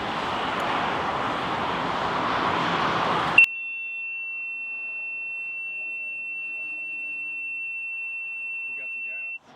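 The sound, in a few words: boat ignition warning beeps while hotwiring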